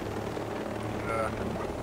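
A helicopter in the video game Ghost Recon Breakpoint gives a steady low rotor drone that holds level throughout, with a voice faintly present underneath.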